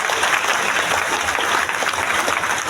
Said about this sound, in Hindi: इसके लिए जबरदस्त ताली होना चाहिए।